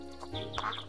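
A single short, nasal duck quack from a 3D cartoon, fairly quiet, heard on its own.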